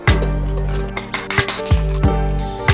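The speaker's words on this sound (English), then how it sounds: "Whisk it." A metal whisk clinks rhythmically against a bowl while mixing dry cocoa powder, flour and salt, bright ringing taps in an uneven series, close and clear.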